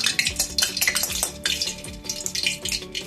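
A spoonful of ghee hits hot oil in a kadai for a Bihari-style mutton curry, crackling and spitting close up in bursts, with metal utensil clinks and no speech.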